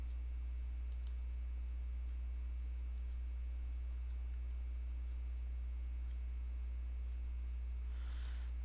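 Two faint, sharp computer mouse clicks, one near the start and one near the end, set apart against a steady low electrical hum with no talking.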